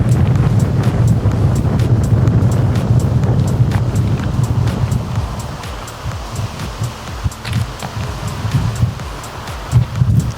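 Steady wind buffets the microphone with low rumbling gusts and rustling, continuous throughout, easing slightly toward the end.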